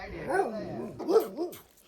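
A large, fierce dog tied up at a home near Binsar barks and yelps at close range, giving two loud bursts of bark-like calls about a second apart.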